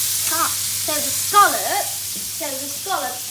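Scallops sizzle steadily in a hot frying pan, a constant close hiss with a few brief voiced sounds over it.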